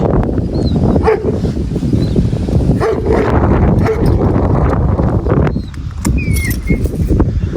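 A working sheepdog that has spent its life herding sheep barks a few times outdoors, the barks rising over a steady, dense background noise.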